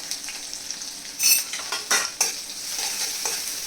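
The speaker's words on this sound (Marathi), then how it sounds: "कांदा थोडा ब्राऊन होईपर्यंत परतून घेऊ" Onion, green chili and curry leaves fry in a pan with a steady sizzle, stirred by a utensil that adds a few scraping clatters, close and fairly loud, with no talking.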